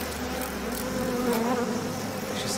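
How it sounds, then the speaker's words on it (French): Mosquitoes whine and buzz steadily and close by in the horror video game Outlast 2, a thin continuous drone that wavers slightly, heard alone without speech. "Regardez, il y a des moustiques, je les déteste."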